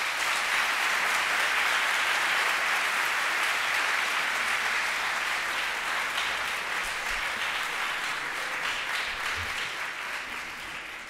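Audience applause after a speech at a lecture, a dense, sustained round of clapping filling the room and slowly tapering near the end.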